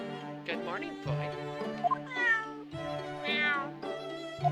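Wagahai, a cat in The Great Ace Attorney Chronicles, gives a string of several clear, drawn-out meows with rising and falling pitch, close and fairly loud, with brief pauses between calls and no talking.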